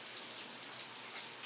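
Rain from Hurricane Irma falling on sandy ground in Groveland, Florida, a steady soft hiss of drops without any break, fairly quiet and with no talking.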